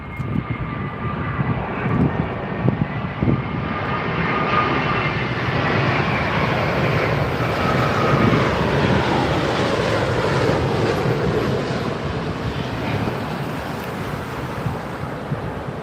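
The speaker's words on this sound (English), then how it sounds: "The engines make a certain little howl just before they land." A British Airways Dreamliner jet on landing approach at London Heathrow runway 27R, its engines giving a loud, continuous whining howl that swells and holds steady as the aircraft passes close overhead, with no talking.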